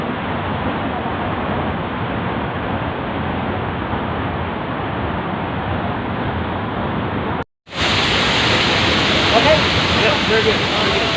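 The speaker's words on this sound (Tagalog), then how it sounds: "Waterfall." Mother Falls in Baler, Aurora roars as a strong waterfall, a loud steady broadband rush that drops out briefly and returns even brighter, with a person speaking briefly over it.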